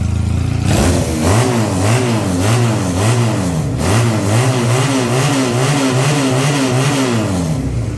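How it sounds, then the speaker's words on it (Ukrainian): Close, loud engine of a Futong Prince 250 motorcycle revving repeatedly, the pitch climbing and dropping in quick, lively bursts over a steady running rumble. "Дуже бадьоро набирає оберти двигун."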